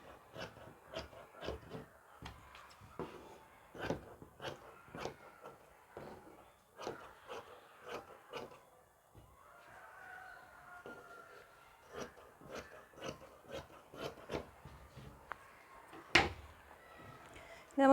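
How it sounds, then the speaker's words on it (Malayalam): Scissors trim away excess fabric while a churidar is being stitched: a long series of crisp, close snips at an uneven rhythm, with a brief lull midway and a sharper clack near the end. "ഇനി നമുക്കിത് എക്സ്ട്രാ നിൽക്കുന്ന ഈ തുണി നമുക്കിതിൽ കട്ട് ചെയ്ത് മാറ്റാം"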